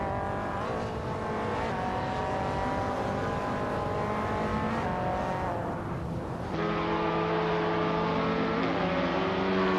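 Race cars in a video game race roar and overtake one another, a continuous loud engine whine with shifting revs and a sudden gear change near the end, no talk.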